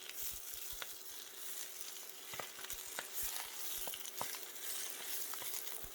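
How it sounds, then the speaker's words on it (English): Garlic and fresh spinach saute in a hot buttered pan, a steady soft sizzle with scattered pops and clicks of stirring, heard alone throughout. "Stir in the fresh spinach and saute until wilted."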